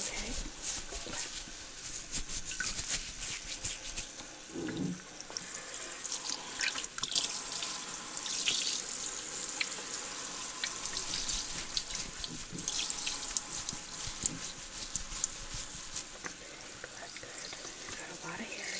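Steady rush of tap water running during a salon hair wash, continuous and fairly close with splashing and dripping as it hits hair and basin; a voice speaks briefly.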